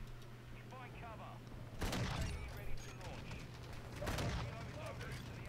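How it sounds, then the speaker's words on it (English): Tank cannon fire in the video game Modern Warfare 2, two heavy booming blasts with ringing tails over a background of game sounds, while a person talks quietly. "There's a tank shooting at me."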